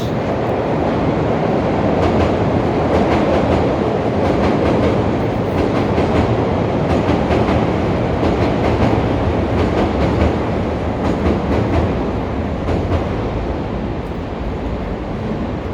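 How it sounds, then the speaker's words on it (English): Chicago elevated L train rumbles past on the tracks downtown near Wabash Avenue, a loud continuous roar of wheels and steel with rhythmic clattering that holds steady throughout, heard up close from street level. "Look how beautiful the elevated train."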